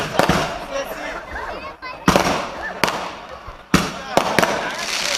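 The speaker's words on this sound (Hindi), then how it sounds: "80 है ये, 80 पटाखे हैं एक साथ।" A string of 80 firecrackers goes off in a rapid uneven series of loud sharp bangs, close by, with crackling between the reports and people talking and a voice underneath.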